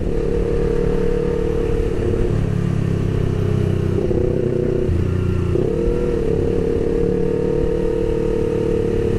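Honda CB400 motorcycle being ridden on the road, its engine droning steadily with shifting pitch as it revs and eases off, alongside wind and road noise, no voices.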